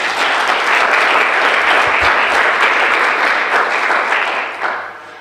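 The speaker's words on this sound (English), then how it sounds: "Let's give them a round of applause to welcome them." Sustained, warm applause from a symposium audience welcoming the speakers, many hands clapping steadily and fairly close, fading out near the end.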